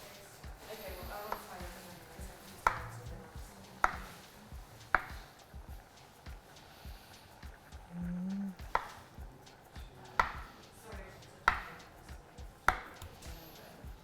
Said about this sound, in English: Cut it into 2cm cubes